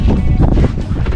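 Strong wind roars across the microphone aboard a small fishing boat at sea, a loud continuous buffeting rumble with gusty swells and no voices.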